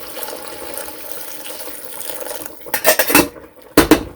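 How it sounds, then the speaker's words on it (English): Hot water is poured into a pot holding a thick piece of pork for jerk pork, a short splashing pour with metallic clinks of the pot following, no one talking. "Let me get my hot water here"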